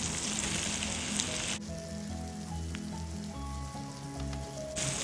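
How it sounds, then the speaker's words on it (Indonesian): Shrimp stir-fries with onion and garlic powder in a pan, giving a fizzing sizzle with soft crackles, close by and partly overlaid by a steady tonal musical layer, with a brief drop in the hiss partway through. "Tumis sampai udang berubah warna kawan-kawan ya."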